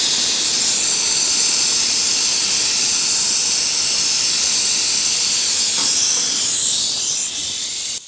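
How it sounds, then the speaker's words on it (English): A pneumatic vacuum brake bleeder on a 2024 Triumph Bonneville T120 gives off a steady, loud airy hiss that runs unbroken and then tapers slightly at the end, with no talk. "I want to hook up the vacuum and have that ready to go so that it starts sucking right away"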